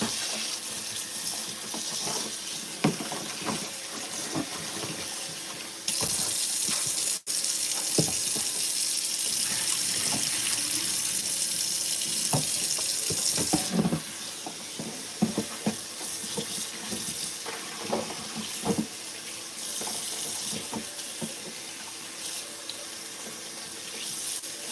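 Tap water runs steadily into a kitchen sink while vegetables are rinsed, a continuous close hiss of flowing water broken by splashes and light knocks as the produce is handled and turned under the stream.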